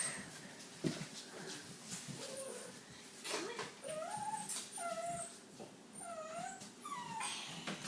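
A young red male puppy from a six-week-old litter whimpers and yips in short, high, wavering cries, quiet and fairly close, repeating over several seconds amid rustling handling noises.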